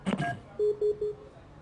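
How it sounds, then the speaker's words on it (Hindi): A phone call on a live television helpline drops, leaving a short burst of line noise followed by three steady electronic tones spaced evenly, clear and moderately loud with no talk over them. "आपका फोन दरअसल कट गया है"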